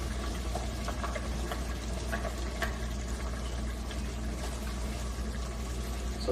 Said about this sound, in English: So it's bubbling away.